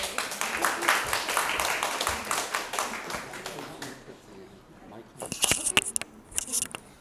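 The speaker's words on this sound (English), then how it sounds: "Now please give a big round of applause for Master Jay." Audience applause at a martial arts safety seminar, a burst of claps arriving after about five seconds of crowd noise, moderately loud and uneven.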